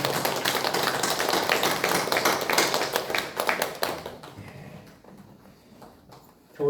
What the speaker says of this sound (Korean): 다시 한번 박수 감사합니다.